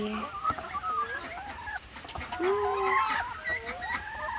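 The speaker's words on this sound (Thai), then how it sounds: "ไก่เต็มเยอะ" Chickens cluck steadily at a farm inside a bamboo-house home school, several birds calling over each other close by, with a few rising cackles and a distant crow-like call mixed in, no talking.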